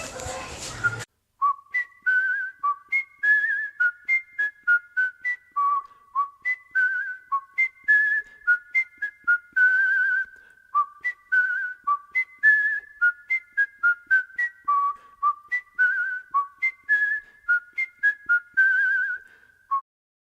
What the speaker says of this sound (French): il se met au travail en sifflotant